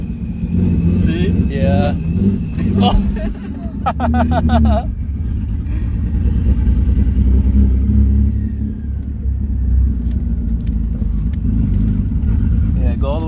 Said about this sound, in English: the turbo noises are awesome